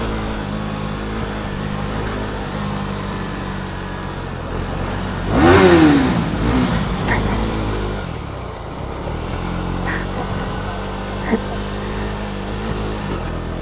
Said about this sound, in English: I'm going to rev bomb inside that.